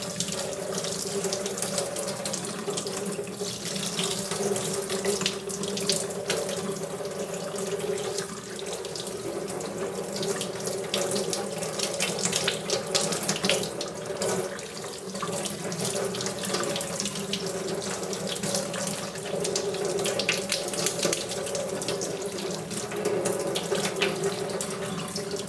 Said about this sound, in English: Water's hot. Rinse this thing off.